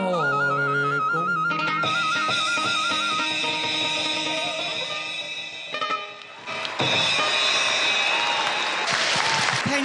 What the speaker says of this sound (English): Please, a round of applause for all the audiences, the performers, and all of you